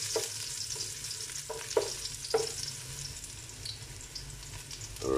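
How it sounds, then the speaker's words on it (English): Garlic sizzles steadily in hot cooking oil in a pan for a Bicol express dish, with a few sharper crackles and stirring scrapes, close and continuous. "So guys, I'm going to put our garlic."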